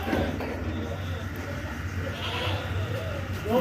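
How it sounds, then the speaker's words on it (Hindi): A six-tooth Rajanpuri goat bleats at a livestock market, its wavering calls rising over constant background chatter and crowd noise, with someone talking nearby. "ये एक बकरी है मेरे पास राजनपुरी, 6 दांत की है"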